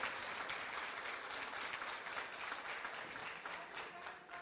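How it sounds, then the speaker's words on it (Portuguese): Steady applause from an audience at the opening of an embroidery seminar, a fairly faint, even wash of many hands clapping with no speech over it. "eu vou pedir uma salva de palmas aqui para a Elaine"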